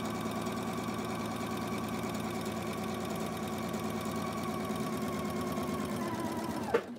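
A sewing machine runs steadily while stitching quilt pieces for flying geese blocks, with a fast even mechanical whir and clatter, close and continuous, stopping with a small click at the end.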